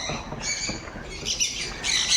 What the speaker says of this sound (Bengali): তার মধ্যে পাখিগুলো বসছে